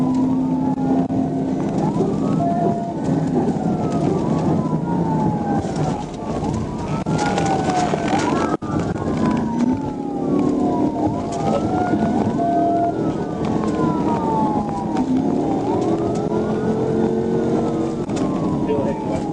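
Police sirens wail in repeated rising and falling sweeps over steady road and engine noise, fairly loud and continuous throughout.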